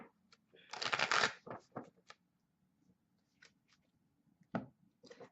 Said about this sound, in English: Shuffle just one or two times as a habit.